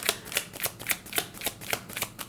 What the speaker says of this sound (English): You will see that as I shuffle, sometimes, cards will literally jump out of the deck